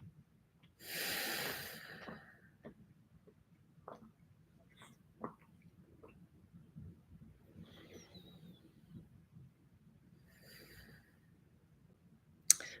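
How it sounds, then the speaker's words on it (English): A dog snores nearby with soft, irregular snorts and breaths, one longer rasping exhale early on and scattered quieter snuffles after it, faint against a low background hum. "That's my dog snoring at me."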